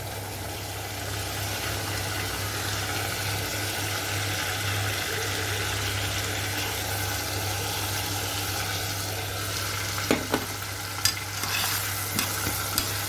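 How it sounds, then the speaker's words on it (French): Rice sautés in a hot pan with a steady, even sizzle and hiss, joined near the end by a few clinks and scrapes of stirring, with no talking. "Et vous faites revenir votre riz"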